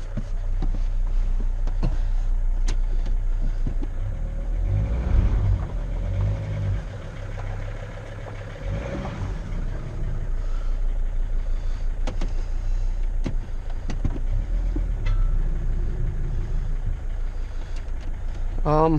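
A Mercedes Sprinter T1N van that sat unused for over a year idles and runs with a low, steady diesel drone while reversing, heard close with someone talking over it at times.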